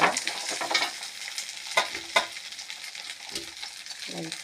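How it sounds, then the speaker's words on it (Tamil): Curry leaves, tamarind and ginger sauté in a pan with a loud close sizzle, broken by a few louder crackling bursts and stirring scrapes. "கருவேப்பிலை, புளி, இஞ்சி, நீங்கள் ஒன்று ஒன்றா போட்டு வணக்கணும்"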